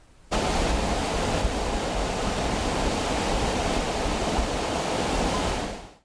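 Loud, steady roar of debris-laden floodwater rushing down the Melamchi river in Nepal, a dense continuous wash of turbulent water close by that runs unbroken and then cuts off abruptly at the end.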